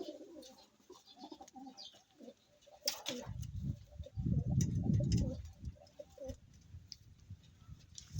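Racing pigeons cooing in a loft, a close, loud burst of low throaty coos in the middle among scattered wing flaps and bird movement, with someone talking quietly at the start.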